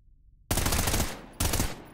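Two short, muffled bursts of suppressed gunfire from a weapon in Trepang2, each a dense, close thump-like rattle, separated by a brief gap, with no talking.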